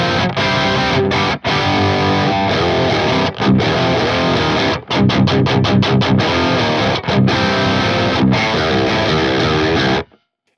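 Distorted electric guitar through a Fractal AX8 modeling a Triptik amp in classic mode, master near 3, plays loud, dense chords and riffs for about ten seconds with a few brief stops, then cuts to silence.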